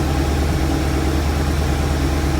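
A 1989 C4 Corvette engine idles in a steady low rumble with an even vibrating drone, close and loud with no pauses.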